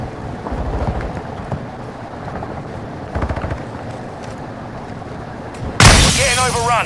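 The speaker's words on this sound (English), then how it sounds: "Throwing flash grenade." Flash grenade going off in Call of Duty: Modern Warfare II, a sudden loud bright burst near the end that rings on, following a stretch of busy game noise and scattered shots.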